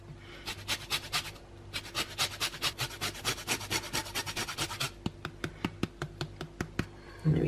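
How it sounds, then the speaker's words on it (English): A lemon rasped against a grater in steady back-and-forth strokes, each scrape a short dry rub, close and fairly quiet with no talking. "I'm now going to add the zest of lemon."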